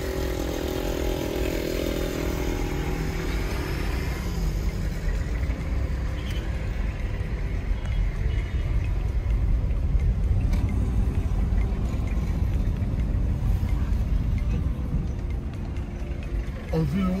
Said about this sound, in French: Le moteur de la Nissan n'est pas content.